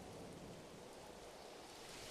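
Steady rain falls in the medieval city-building game Manor Lords, a dense, even hiss that holds at the same level throughout, with no voices over it.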